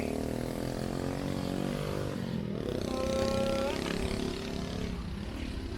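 Motorcycles rumble by outside a restaurant in Tagaytay City, a continuous engine drone with a brief rising whine midway, while voices talk over the traffic.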